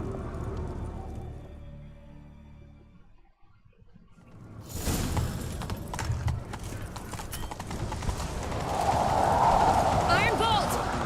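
Horse hooves clip-clop and gallop in The Witcher 3, starting faint and building to a loud, rapid drumming, with a horse snort and game character voices talking over it.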